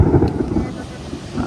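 Thunder rumbles low and heavy during a storm over a beach, a brief, loud, continuous roll without distinct cracks.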